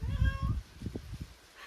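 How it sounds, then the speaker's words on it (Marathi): A cat meows nearby, one drawn-out call followed by a shorter one starting at the end, over some low thumping handling noise. "मला माझं मांजर बोलू देत नाही आहे"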